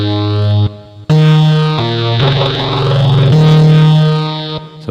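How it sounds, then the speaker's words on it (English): A SNESYNTH retro game-style synth plays sustained buzzy tones drenched in distortion, bit-crush, reverb, delay and phaser, with several held notes, a brief gap and swirling sweeps, loud and alone. "this one is using a lot of distortion, crush, and fire, and some reverb, and some delay, and some phaser"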